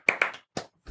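Hands clap a short rhythmic pattern to get attention: two quick sharp claps, a softer follow-up, a pause, then another clap, close and crisp with no talking.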